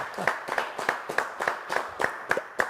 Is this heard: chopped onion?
no